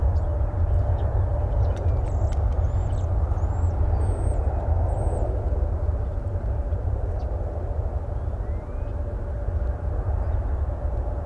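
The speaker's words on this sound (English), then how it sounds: "Flight 3778 to Brownsville, which I believe is now heading down the runway." Steady low roar of an airliner engine, Flight 3778 to Brownsville, taking off down a runway at DFW Airport, a continuous distant rumble with faint chirps above it.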